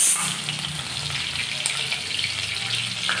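Green chillies drop into hot oil with sautéed garlic in a pan for a spiced cauliflower dish, a loud burst of sizzling at first that settles into a steady frying crackle with occasional stirring.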